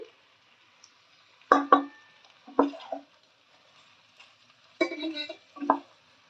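Turmeric, coriander, cumin and chilli powders mixed into chicken in a pan, with a few short, close bursts of spoon scraping and squelching separated by near silence.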